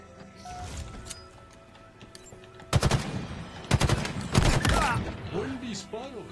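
Bursts of automatic gunfire from Halo Infinite played on an Xbox Series X, with sharp rapid volleys in the middle and end of the clip over game noise, with a player's voice talking in between.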